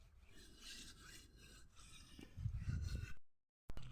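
Banana leaves are cut by hand outdoors, giving quiet rasping, rubbing strokes that grow into a few louder tearing scrapes before a brief silence and one more faint sound.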